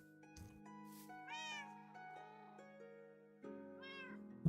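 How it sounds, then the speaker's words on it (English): Cat meows from the Minecraft video game, several tonal mews with rising and falling pitch repeated over a few seconds, faint and clean, with no talk. "only hearing meowing from in-game"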